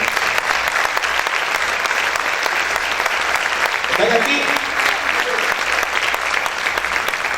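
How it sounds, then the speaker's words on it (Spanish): A church congregation applauds loudly and steadily in a dense, continuous wash of clapping that fills the whole stretch, with a voice briefly speaking over it. "Vamos a aplaudir fuerte a nuestro Dios"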